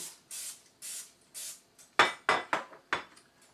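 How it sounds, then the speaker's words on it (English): Several short hissing bursts of non-stick cooking spray into a glass bread pan, followed by a few sharper clattering knocks like the pan being set down and handled. "I'm going to spray a glass bread pan with non-stick cooking spray"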